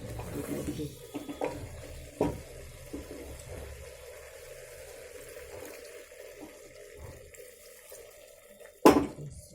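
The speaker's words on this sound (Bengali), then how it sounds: "সামান্য জল দেবো করে আমি" Water poured into a pan of mixed vegetables in a home kitchen, a soft running splash under a faint voice, with a couple of sharp clatters partway through and near the end.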